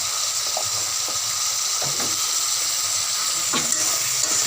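Ginger hits a hot pan while a fish head dish cooks, giving a steady, close hiss of frying oil with a few soft stirring knocks.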